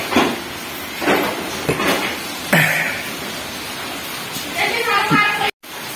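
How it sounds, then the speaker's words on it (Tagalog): Heavy rain hisses as a constant broadband wash, with scattered knocks and bumps and people talking over it at close range. "Lakas ng ulan"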